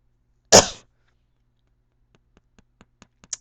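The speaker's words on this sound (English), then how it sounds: "Sorry for the coughing." One sharp, loud cough bursts out close to the microphone, followed by near silence with a few faint soft taps.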